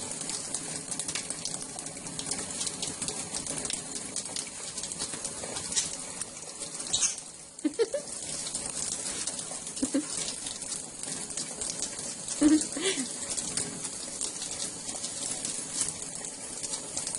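Water runs from a tap in a home in a steady, hissing stream throughout, with small splashes and patters near the end.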